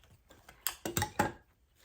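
A half plastic, half wire artificial flower stem from a Dollar Tree centerpiece being cut, heard as a few close, crisp snips and clicks in a quick cluster, fairly quiet with no talking.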